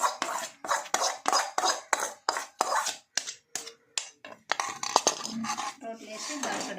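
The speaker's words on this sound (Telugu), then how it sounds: "రోట్లో వేసి దంచడం" Tomatoes and chillies are pounded in a stone mortar with a steady run of heavy, close thuds, about three a second, that turn looser and grinding toward the end.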